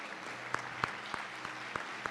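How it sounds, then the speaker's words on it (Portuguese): A church congregation applauds during a sermon, a soft, even patter of many hands with a few sharper claps at a steady pace, heard from a distance and fairly quiet, with no speech over it. "Aplaude a Deus por isso."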